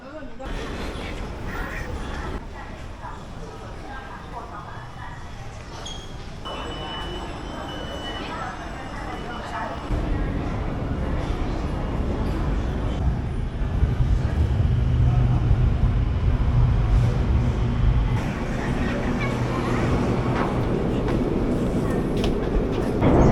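A Shanghai metro train rumbles steadily, growing louder as it arrives and runs, a continuous deep mechanical roar with rail noise over station ambience, with voices faintly present.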